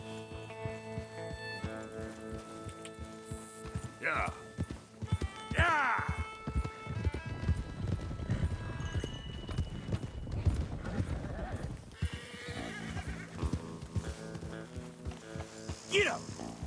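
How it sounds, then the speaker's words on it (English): Horses in Red Dead Redemption 2 clip-clopping and galloping, with hooves pounding close and several loud whinnies, while someone shouts and urges them on over a music score. "Come on, horses."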